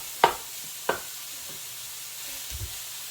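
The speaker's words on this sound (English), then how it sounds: "We're going to let it slowly render out that grease." Sausage pieces render their grease in a pan, giving a soft, faint sizzle with a few sharp taps from the pan near the start.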